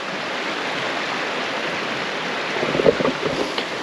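A river rushes steadily along the Cape Wrath Trail in the Scottish Highlands, a continuous broadband wash of flowing water close by, with a few faint knocks near the end.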